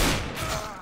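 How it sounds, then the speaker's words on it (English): Gunfire in a competitive shooter match during a duel, a single loud shot burst ringing out briefly and close. "We're just dueling with Edzons"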